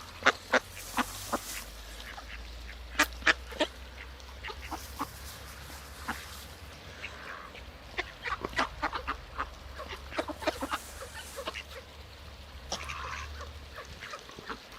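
Ducks on a river give repeated close quacks and clucking calls in scattered bursts over a steady low rumble, with no talking.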